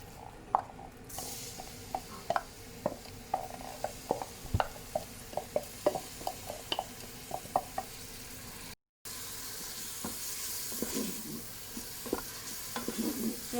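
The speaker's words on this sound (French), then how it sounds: "On ajoute à notre huile d'olive notre oignon haché." Chopped onion hitting olive oil in a Cookeo multicooker, a steady frying hiss broken by frequent irregular scrapes and knocks of a spoon against the pot, with a brief gap and a louder sizzle afterward.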